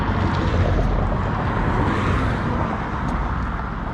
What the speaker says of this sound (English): all these motorized vehicles passing by